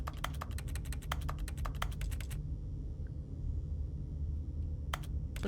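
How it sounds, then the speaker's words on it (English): Rapid clicking of a computer keyboard in bursts over a steady low hum, with a pause and then a few more keystrokes near the end, close and fairly quiet. "It's funny because it's making keyboard click sounds, but my keyboard's also clicking."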